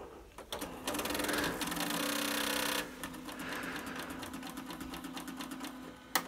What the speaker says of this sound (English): I see the printer trying to do stuff